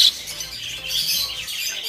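Budgerigars chirp and twitter continuously in a breeding setup, bright overlapping tweets at close range with no talking.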